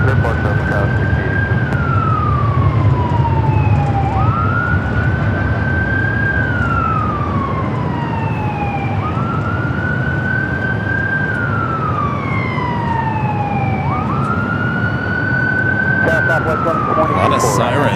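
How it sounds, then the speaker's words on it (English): Emergency vehicle siren wailing near LAX airport, a loud rising-and-falling tone repeating in slow cycles of about five seconds, with faint background traffic and airport ambience beneath. "A lot of sirens this morning."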